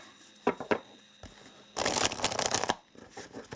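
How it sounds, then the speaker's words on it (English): A deck of tarot cards shuffled by hand, close and fairly quiet. A few separate riffles and taps come first, then a longer burst of brisk shuffling that stops abruptly, with no talking. "I'm going to shuffle this deck and we're going to pull 6 cards from this deck"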